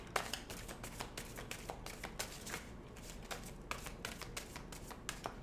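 Tarot cards are shuffled repeatedly up close, a steady run of sharp papery riffles and taps lasting several seconds, with no one speaking.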